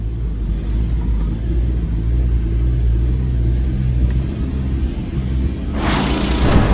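A MAN KAT 8x8 expedition truck drives off-road along a tank track in a forest, its engine a steady low rumble with a deep droning hum throughout, rising into a louder broadband rush near the end.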